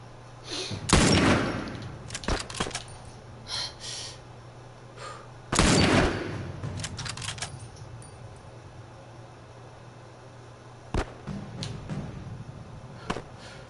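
Gunfire in the video game The Last of Us: a few separate loud shots or short bursts spaced several seconds apart, each with a trailing echo, over a quiet ambient background.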